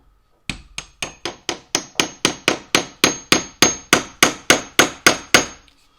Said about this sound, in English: take the hammer and tap it back in